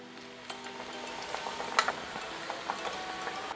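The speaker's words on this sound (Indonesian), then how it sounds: "Nah, kita rebus dulu ayamnya." Chicken simmers in a pot with a soft continuous bubbling and scattered small pops and clicks, close and fairly quiet, with no talking.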